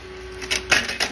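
A Creality Ender 3 Neo 3D printer prints with an extruder drive fault, giving a brief burst of a few sharp, close mechanical clicks over a faint hum.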